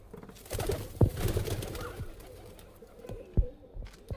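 Pigeons from a loft being released, with soft cooing and brief wing-flap bursts near the start and later, over a quiet outdoor background.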